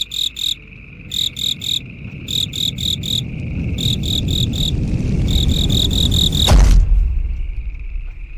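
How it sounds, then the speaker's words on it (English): Crickets chirp as a comedic sound effect in loud, evenly spaced bursts of rapid trills over a rumbling background, ending abruptly with a sharp thud. "crickets."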